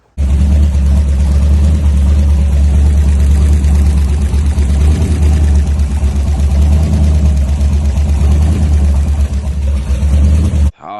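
An LS V8 engine in an S197 Mustang running with a failed lifter and a damaged number one cylinder bore, a loud, steady low rumble held for about ten seconds before cutting off abruptly.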